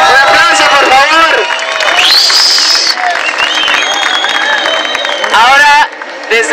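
A crowd applauds and cheers at an international urban highline competition, the clapping and shouts loud and close, mixed with an announcer's amplified voice and a few whistles.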